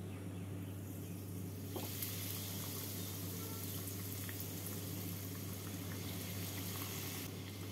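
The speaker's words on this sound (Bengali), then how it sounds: "এবার গ্যাসটাকে মিডিয়াম টু লো ফ্লেমে রেখে কিমা র্যাপগুলোকে ভেজে নেব" Chicken keema wraps fry in hot white oil in a pan over a medium-low gas flame, giving a steady, quiet bubbling sizzle that goes on without a break under a constant low hum.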